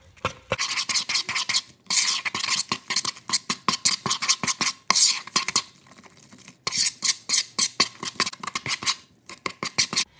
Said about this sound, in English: So then just mix that all together until it's nicely blended.